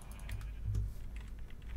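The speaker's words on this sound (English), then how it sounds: "Sorry if you can hear my keyboard." Rapid, light clicking of fingers typing on a computer keyboard, a quiet steady patter of keystrokes close to the microphone, with no speech over it.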